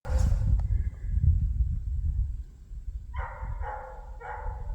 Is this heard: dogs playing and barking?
yes